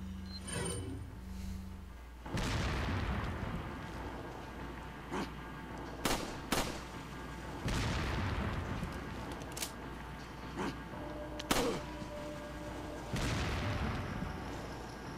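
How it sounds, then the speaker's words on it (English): Fireworks go off outside: a scattered series of sharp cracks and booms at irregular intervals, fairly faint and distant over a quiet background. "somebody's a dumbass with fireworks"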